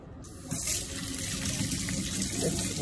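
A tap starts gushing into a sink, a loud, close, steady rush of running water over something being washed, continuing unbroken after a brief quiet start.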